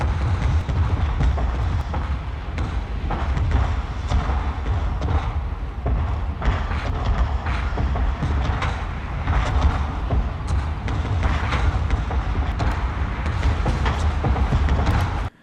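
Rolling, concussive artillery impacts from the Total War: Warhammer battle game form a dense, continuous low rumble with repeated heavy booms layered over one another at steady loudness throughout.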